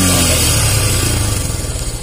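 A motorcycle engine revs loud and close with a clutch-bike throttle blip, the steady roar then settling into a pulsing rumble.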